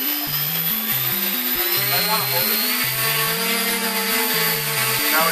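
An Arduino-based autonomous quadcopter with lidar hovers indoors, giving a loud, close, continuous buzzing whine with a wavering pitch that steps up and down as the motors adjust.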